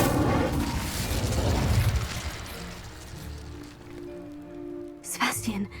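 An Incendio fire spell cast in Hogwarts Legacy: a roaring, crackling burst of flame that rumbles for a couple of seconds and fades to a hissing tail, followed by a sharp whoosh and tonal ring near the end.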